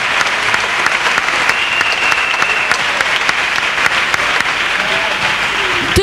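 A church congregation breaks into loud, sustained applause, dense and even from start to finish, with the clapping close and filling the room.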